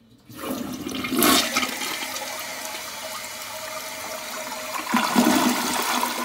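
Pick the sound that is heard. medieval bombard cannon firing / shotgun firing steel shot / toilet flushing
toilet flushing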